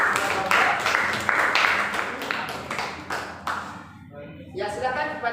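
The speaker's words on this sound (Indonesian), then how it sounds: "kita kasih aplaus untuk kelompok" A classroom audience applauds a group of students with a burst of steady clapping that tapers off after a few seconds, with voices talking in the background.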